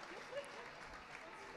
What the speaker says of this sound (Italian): E riceve l'applauso del pubblico